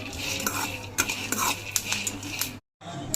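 Curry leaves tossed into a pan of dry-roasting peanuts give a busy stream of stirring, scraping and light rattling. It runs steadily close up, with a brief silent gap near the end.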